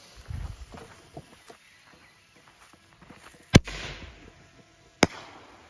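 A single-shot parachute firework sends off sharp pops and cracks, with two loud bangs standing out among softer thumps and footstep-like sounds nearby.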